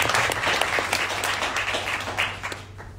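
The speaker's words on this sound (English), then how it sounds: "Give a big applause." Audience applause fills a symposium hall on Japanese knotweed, dense and steady clapping from many hands that holds at full strength before thinning out near the end.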